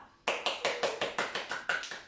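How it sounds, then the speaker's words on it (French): Hands clapping at home during a baby gym session, about ten crisp claps in a steady quick rhythm, close and fairly light, with no talking over them. "On s'applaudit très fort."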